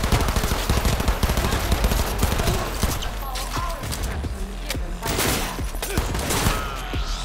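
Rapid gunfire during a firefight in Cyberpunk 2077, dense bursts of shots and heavy blasts cracking close and loud, with a brief quieter stretch midway before more shooting.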